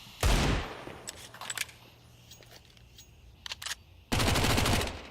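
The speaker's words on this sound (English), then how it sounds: "Couple of pistols" Pistol fire in Counter-Strike during a PGL Astana 2025 match, two loud bursts of rapid shots at the start and end with scattered clicks and faint metallic ticks between them.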